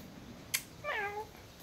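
A ginger cat gives a single short, clear meow after a brief sharp click, close by in a quiet room.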